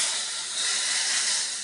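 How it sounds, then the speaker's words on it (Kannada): Hot oil tempering poured into a cauliflower and toor dal sambar sizzles with a steady, loud hiss that holds evenly throughout, with no talking. "ಈಗ ಇದಕ್ಕೆ ಒಗ್ಗರಣೆ ಕೊಡಿ"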